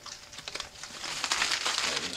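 Newspaper sheets crumpled by hand before lighting a blacksmith's forge, a close, dry crackling and rustling that grows louder and denser over a couple of seconds.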